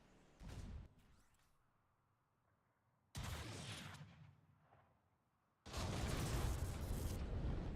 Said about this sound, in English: Love how you can still hear him shooting underneath